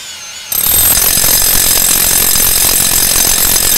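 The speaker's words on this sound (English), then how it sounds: "Continue drilling until the tape disappears into the cuttings." A rotary hammer drill bores a hole. It starts after a brief pause and then runs as a loud, continuous, rapid hammering whir that stays steady to the end, with no talking.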